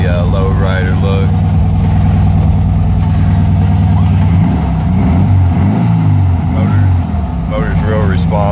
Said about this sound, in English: Motor's real responsive, revs right up. Check it out.